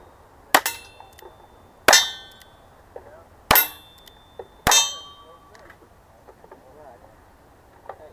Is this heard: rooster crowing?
no